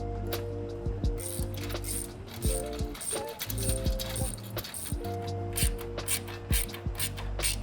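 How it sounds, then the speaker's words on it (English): Bolts are tightened by hand with an 8mm socket ratchet, giving repeated close, quiet clicking ratchet strokes in short runs with small metallic clinks between them. "So now we're gonna go through and tighten it all by hand. For that, we're gonna be using an 8mm socket and 3mm hex key."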